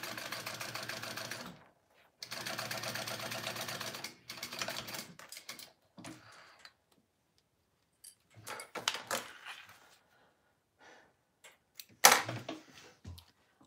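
A sewing machine stitches a crossbody bag in bursts of rapid mechanical clatter separated by pauses, followed by scattered clicks and handling noises.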